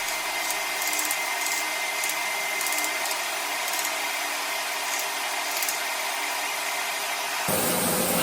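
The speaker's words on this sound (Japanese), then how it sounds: "400番で磨いていきます。" Steady whirring grind of a CPM154 steel kitchen knife blade being polished on 400 grit, a continuous close machine-like drone with faint rhythmic scraping pulses, shifting in tone near the end.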